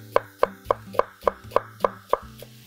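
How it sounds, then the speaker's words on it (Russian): A knife chops carrots and onion steadily on a cutting board, about ten sharp, evenly spaced knocks, close and clear. "А сейчас начнем нарезать морковь и лук."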